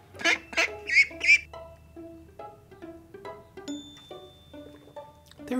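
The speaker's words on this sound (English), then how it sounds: "Honestly, Mr. Peeps, the things ducks say." Ducks quack repeatedly, four loud nasal calls close together at the start followed by a run of softer, lower quacks and honks.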